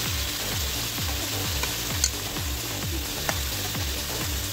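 Garlic paste frying in hot oil for a village-style tribal chicken curry, a steady close sizzle with faint stirring scrapes running throughout, no voices.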